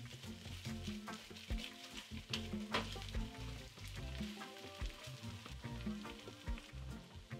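Ingredients sweat and sizzle steadily in a pot for a one-pot mujaddara of lentils and rice, with a soft, continuous crackle that stays close and moderately quiet the whole time.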